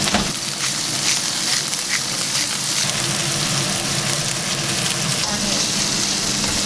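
Chicken fries in a hot pan with a dense, continuous crackle and sizzle that stays loud and even throughout, with a voice speaking briefly over it.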